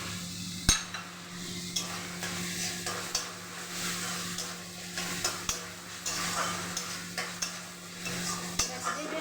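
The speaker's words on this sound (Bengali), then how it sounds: "ভালোভাবে মশলাটা কষিয়ে নিই।" Spice paste with chopped tomato being stir-fried in a pan for a rohu fish curry, a steady sizzle broken by repeated scraping strokes and a few sharp clicks of the spoon against the pan, fairly close.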